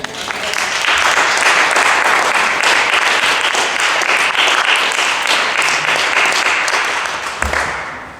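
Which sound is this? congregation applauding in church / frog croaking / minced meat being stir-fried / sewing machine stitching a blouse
congregation applauding in church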